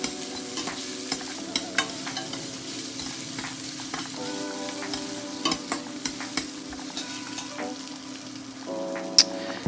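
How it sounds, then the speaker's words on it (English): Freshly grated ginger stirred in a pot, soft spoon scrapes and clicks over a low, steady sizzle, with a tonal hum running underneath. "we're going to add in that freshly grated ginger and give it another stir, and just keep stirring"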